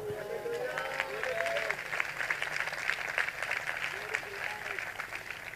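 A church congregation applauding for God during a sermon, with dense, steady clapping that goes on throughout, heard from a moderate distance amid a crowd.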